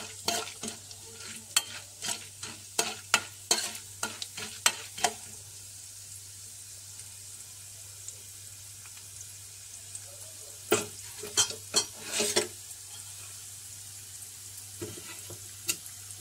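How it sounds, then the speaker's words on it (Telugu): Cumin and tempering spices sizzle in hot oil for a drumstick-leaf fry, with bursts of sharp stirring scrapes against the pan over a low steady hiss, quieter in the middle stretch. "ఇందులోనే మన తాలింపు దినుసులు అయితే వేసుకుంటున్నాను."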